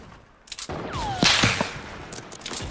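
Gunfire in the Fortnite battle royale video game, a few sharp shots ringing out at moderate distance amid a whooshing sweep and other game effects.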